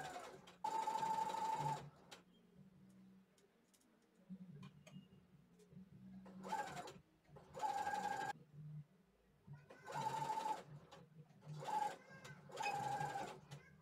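Short bursts of sewing machine stitching run along bias binding on the wrong side of a blouse neckline, separated by quiet pauses and soft handling noises, each burst a close, steady mechanical whir.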